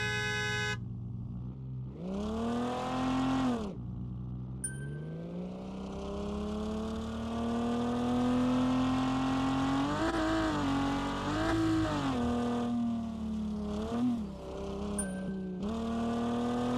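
Car engine driving in the Revhead video game, a loud, steady droning engine note that rises and falls with revs and gear changes, running continuously with brief chime-like interface tones, no speech.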